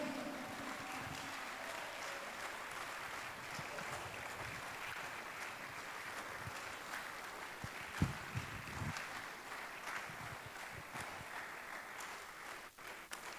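Many worshippers in a church service applaud in a continuous, fairly distant roar of clapping, with a few sharper knocks and bumps standing out midway.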